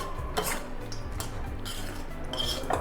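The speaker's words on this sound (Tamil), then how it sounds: "ஸோ இப்போ இதை பவுலில் மாற்றிடுவோம்" Gongura podi rice being scooped into a bowl, with a few sharp utensil clinks and scrapes against the dishware over a couple of seconds, heard up close.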